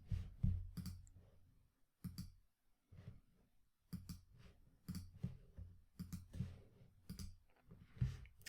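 Computer mouse right-clicking: a series of faint, sharp clicks in irregular clusters, very quiet and close, with no talking.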